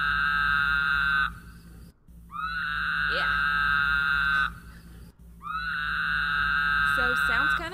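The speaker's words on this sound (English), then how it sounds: "So sounds kind of like a woman screaming, but it's just a toad." A toad gives three long, shrill, scream-like trills, each lasting a couple of seconds with short pauses between, over a faint steady hum.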